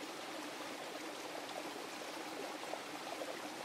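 Water rushing steadily through a repaired black poly waterline fed from a spring box, a constant close hiss and gurgle with no breaks and no voices.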